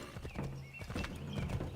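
Horse hooves clip-clopping in Assassin's Creed III, a quick run of close, crisp hoof knocks that sets an irregular trotting rhythm, mixed with faint game sounds and no talking.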